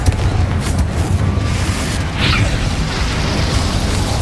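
Confringo fire spell explosions in Hogwarts Legacy gameplay, a steady loud rumble of booming blasts with a brief bright crackle near the middle, no speech.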